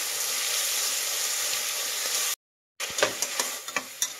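Sliced tomatoes stirred with ginger garlic paste in a hot pan sizzle with a steady close hiss, break off briefly into silence, then return with scraping and clinking spoon strokes.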